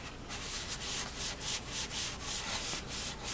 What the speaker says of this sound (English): this is a very fine sanding sponge